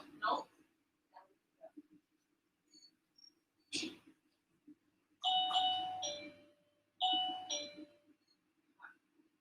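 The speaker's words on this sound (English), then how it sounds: "Did you guys hear the bell?" A doorbell rung by Nugget the dog chimes in two clear ding-dong pairs amid quiet room sounds, with a few softer tones and brief voices around them.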